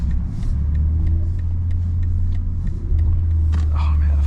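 A BMW M340i xDrive with a custom xHP tune cruises along, its engine a loud, steady low drone heard from inside the cabin, with a slight dip and swell midway and faint road rumble underneath.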